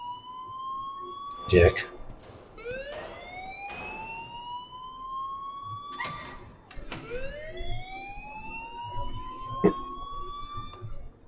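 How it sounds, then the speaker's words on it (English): An alarm wails in the video game Neo Cab, with repeated rising siren sweeps that climb and restart several times at moderate loudness, while a voice briefly speaks and thuds sound between the sweeps. "please turn off that alarm since that's your job"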